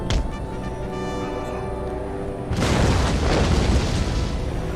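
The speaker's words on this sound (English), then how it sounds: "So they will give us some shelling, sadly. They have mortars." Mortar shelling in Empire: Total War, a French campaign battle: a deep game explosion booms in, then a broad rumbling blast cuts in halfway and roars on loudly to the end.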